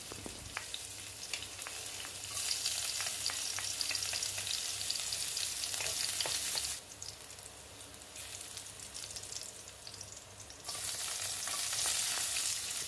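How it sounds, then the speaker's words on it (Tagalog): Garlic and onion sauté in hot oil in a pan for pinakbet, a continuous frying sizzle with a few stirring clicks near the start, rising and falling in loudness with no voices. "Igigisa nga natin ang ating bawang at sibuyas."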